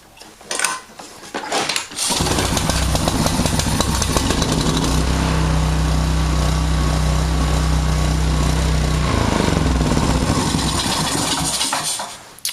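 A small Tecumseh overhead valve engine fires up after a few brief sputters and runs at a loud, steady, buzzing idle nearby for about ten seconds before cutting off, with no talk.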